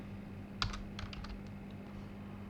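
Keys clatter on a computer keyboard while commands are entered at a Cisco IOS prompt, a short quiet burst of several taps heard up close and alone.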